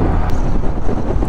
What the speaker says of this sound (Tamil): நல்லா காற்று அடிக்குதுங்க.